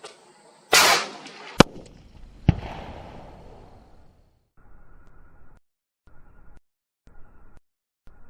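A long-range rifle shot fired at a 600-yard target through a gel block on an open range: one sharp loud crack, a second report, then a fainter delayed impact or echo, followed by quiet.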